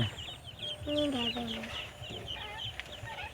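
A village rooster clucks and calls nearby in a few short, rising bursts, with faint voices and outdoor farmyard noise in the background.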